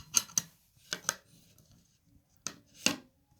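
A metal wrench is fitted onto a rivet nut tool while setting a nut rivet, giving several sharp, close metallic clicks and clinks in pairs with quiet gaps between them.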